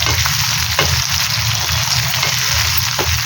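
Tomatoes frying in a pan for a tomato peanut chutney, a steady, loud sizzle with faint stirring scrapes, no talk.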